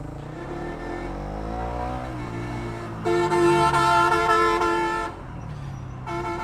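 Vehicle horns blare on a busy highway with three-wheelers and trucks, a long honk lasting about two seconds followed by a shorter one, over steady engine and traffic rumble.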